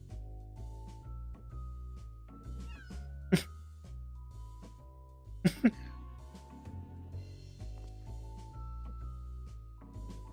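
A cartoonish kitten in a video game gives a few short, bright meows over continuous game music, with faint coughing-like sounds.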